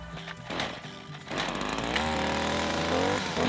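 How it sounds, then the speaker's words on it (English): A string trimmer runs steadily and loudly throughout, its engine pitch rising midway and holding at a higher whine, with no voices. "I do my best using the string trimmer"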